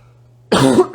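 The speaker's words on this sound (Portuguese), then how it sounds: "Desculpa a tosse, pessoal" A single sharp, close cough bursts out after a brief quiet moment, loud and alone.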